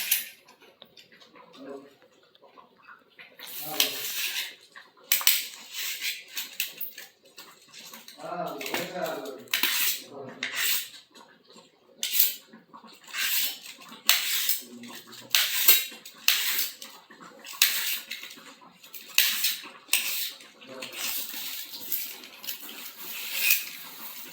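Knife repeatedly chopping vegetables on a board into finger chips, a steady run of sharp close taps and clicks with brief gaps, while a voice talks now and then.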